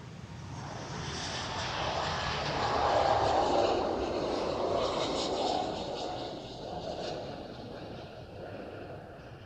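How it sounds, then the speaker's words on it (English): Airliner taking off at Amsterdam Schiphol airport, a steady broad jet roar that swells toward the middle and slowly fades, heard from a distance with no talk. "So yeah, takeoffs again."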